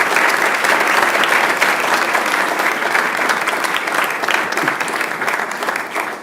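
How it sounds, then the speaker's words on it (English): Steady, loud applause from the audience at a school board meeting, a dense wash of hand claps sustained evenly throughout with no break. "But can we give him a round of applause?"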